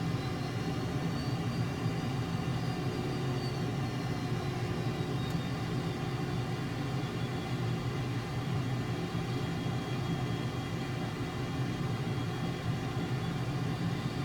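F-22A Raptor jet taxiing in Microsoft Flight Simulator, a steady low engine rumble and whine holding constant throughout with a faint high tone, no talk.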